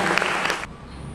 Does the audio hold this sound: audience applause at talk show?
yes